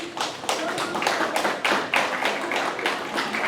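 An audience at a startup marketing talk claps in uneven bursts, a room of hands applauding with sharp repeated slaps, fairly loud and close.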